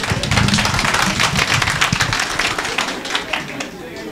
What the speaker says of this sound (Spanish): Dele fuerte aplauso a Jesús.